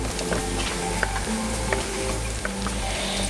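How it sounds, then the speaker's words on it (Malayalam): Sliced onions sizzle steadily in hot oil in a pan for a Kerala fish curry, with a spoon stirring and scraping in light taps, close and fairly loud. "ഇനി നമുക്ക് സവാള ഇട്ട് കൊടുക്കാം"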